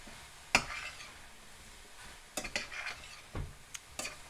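Spices being stirred into a bean taco filling in a pan, with a sharp utensil scrape or clink near the start and several more scraping strokes later, quiet and without talk.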